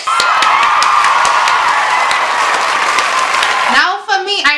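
Loud, dense clapping and cheering from a crowd fills most of the moment alongside a steady voice, then breaks off suddenly as a person starts speaking near the end.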